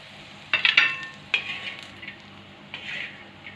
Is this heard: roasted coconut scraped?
yes